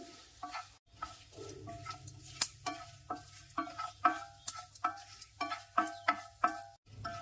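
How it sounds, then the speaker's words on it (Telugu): Gentle sizzling of a tempering frying in oil on low heat for mango pickle, with frequent sharp clicks and taps of a spoon stirring against metal, close and fairly quiet. "సిమ్లో పెట్టుకుంటూనే మంచిగా ఫ్రై చేసుకోవాలి."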